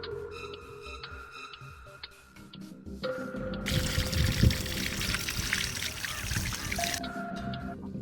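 Water is poured into a bucket in a steady rushing stream for a few seconds, then stops, with background music tones running throughout.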